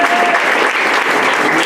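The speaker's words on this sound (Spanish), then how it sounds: "Un fuerte aplauso para él, por favor." Loud, dense applause from a church congregation welcoming a local pastor at a thanksgiving service, a brief continuous wash of clapping close by with no pauses.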